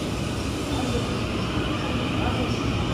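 An ITX train pulls into a station in South Korea, a continuous loud rumble of wheels and carriages with a faint high squeal, heard close up along the platform.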